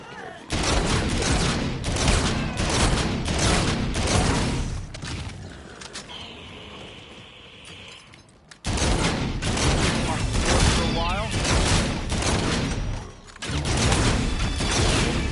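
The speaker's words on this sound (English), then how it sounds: "This shotgun works very, very well against these clowns" Shotgun blasts and other gunfire in Infinite Warfare Zombies, fought against clown enemies, loud repeated shots over a dense game soundscape, with a quieter gap midway before heavy firing resumes.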